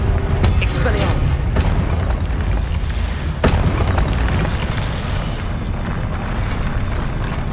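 Confringo fire-blast spells exploding in Hogwarts Legacy, heavy booming bursts layered in a dense, loud, continuous rumble of battle, with a sharp impact standing out partway through.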